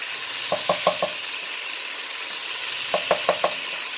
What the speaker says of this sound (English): We make sure that we cook our garlic. We saute it a little bit.